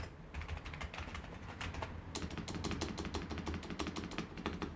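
Keys clatter on an Amiga 500 computer keyboard in quick, uneven bursts of close, crisp clicks, pausing briefly before a denser run of keystrokes; no one speaks.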